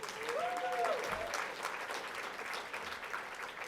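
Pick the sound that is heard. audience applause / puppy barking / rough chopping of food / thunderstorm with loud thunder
audience applause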